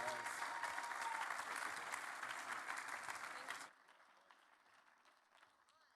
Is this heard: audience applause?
yes